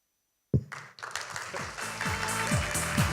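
Applause breaks out at a Korean-American CBMC gathering in Chicago to welcome association members, starting abruptly after silence and building into steady, dense clapping from a large indoor crowd with rhythmic taps.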